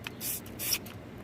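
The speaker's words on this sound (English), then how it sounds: "Spray it on there" Soapy water is spritzed from a spray bottle onto a tire to check for a nail leak, two short, close hissing sprays in quick succession.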